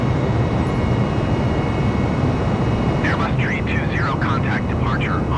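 Airliner taking off in Microsoft Flight Simulator, departing Vancouver, with a steady loud engine roar throughout; a voice talks over it in the second half.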